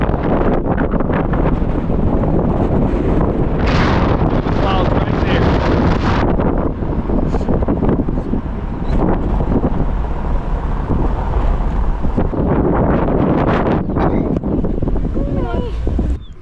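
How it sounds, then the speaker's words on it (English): Strong wind roars and buffets the microphone without letup, a loud, rough rumble with people talking briefly underneath, at Lake Quilotoa, Ecuador. "It is super windy."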